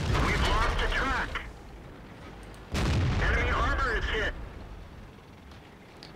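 Tank cannons boom and rumble in World of Tanks, with heavy shell blasts and battle noise running under someone talking in Spanish throughout.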